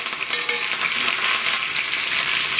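Mustard seeds, cumin, dried red chillies, garlic and curry leaves fry in hot oil for mango dal tempering, a loud, dense, continuous sizzle with a busy crackling hiss throughout and no voices.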